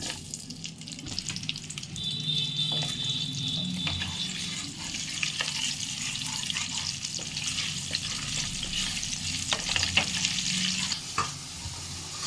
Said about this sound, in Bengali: এবারে এই তেলের মধ্যে আলুগুলোকে ভাজবো।